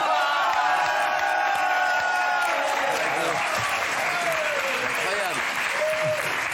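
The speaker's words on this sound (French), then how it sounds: "Des gros applaudissements et tout." A television studio audience claps and cheers loudly and steadily, with voices talking and laughing over the crowd throughout.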